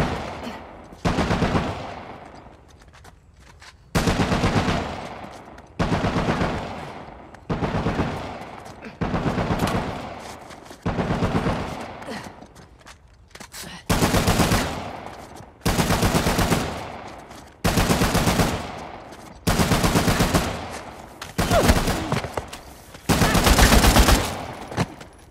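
A shootout in Uncharted: The Lost Legacy, with about a dozen loud, close bursts of automatic gunfire separated by brief pauses.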